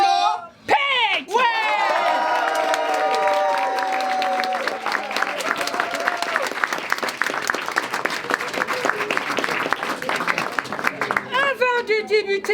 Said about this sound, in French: Applaudissez fort fort les...